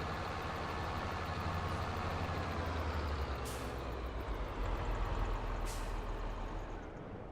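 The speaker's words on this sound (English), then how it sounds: "I'll stop this tractor and we can sleep" A tractor engine idling in Farming Simulator 22, a steady low rumbling hum with two brief hissing bursts partway through.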